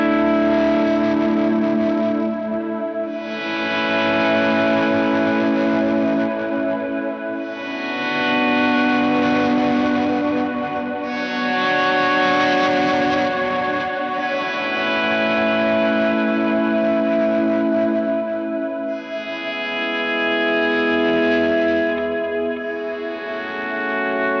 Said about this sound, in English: as you really gently lean into that swell, you start to hear what the pedal is doing with its really interesting kind of like fluttery grit